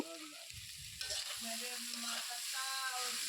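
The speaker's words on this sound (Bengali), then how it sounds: "তো আমি ঝরঝরে করে রাখা চিড়েগুলোকেও একই সঙ্গে আর একটু নেড়ে নেব।" Flattened rice (poha) being stirred in a frying pan for a vegetable poha breakfast, giving a near, steady sizzle with intermittent scraping and stirring scrapes, and no talk.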